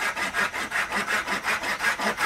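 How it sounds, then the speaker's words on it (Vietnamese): Hand saw cutting wood during roof work on a house, a close, rhythmic rasp of about nine even back-and-forth strokes with no voices. "Cưa làm gì hả?"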